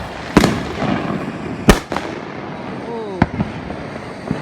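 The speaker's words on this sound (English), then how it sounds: "These are probably one of my favorites because I like the crackling noise." Fourth of July fireworks going off nearby, several sharp loud bangs spaced a second or so apart followed by crackling and a whistling rise, with a person briefly exclaiming.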